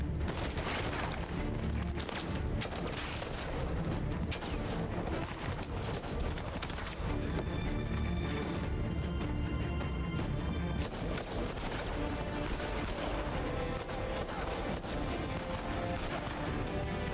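Relentless gunfire in the video game Uncharted 4: dense rattling bursts and heavy booms overlap continuously, loud and chaotic from start to finish.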